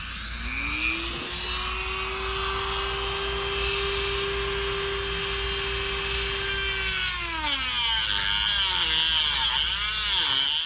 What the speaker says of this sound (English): Take a Dremel and cut it.